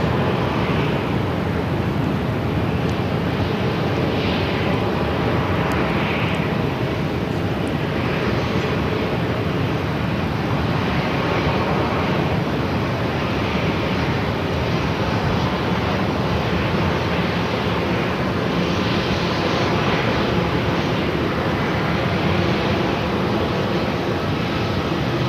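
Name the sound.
Air Canada A330-300 airliner pushing back at Phoenix airport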